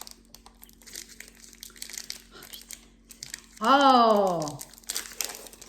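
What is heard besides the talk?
crinkling wafer packet being opened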